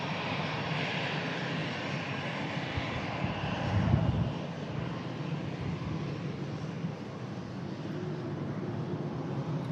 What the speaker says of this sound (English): Tango Tango on the reg of the EasyJet A320. She's in from Santorini.